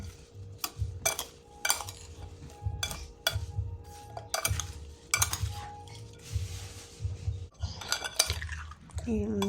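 A utensil scrapes and clinks against a bowl as salt and sugar are stirred into mango for buro, giving sharp, irregular taps and knocks close by over a low background hum.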